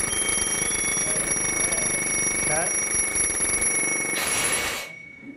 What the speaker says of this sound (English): As soon as the air is gone, the bell stops ringing.